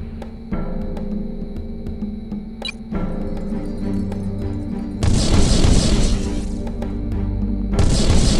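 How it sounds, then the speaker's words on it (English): Explosion of a destroyed vehicle in the mech combat game Heavy Gear: a sudden, loud booming burst with a noisy rumbling tail, then a second blast a few seconds later over constant engine drone. "Hostile vehicle destroyed."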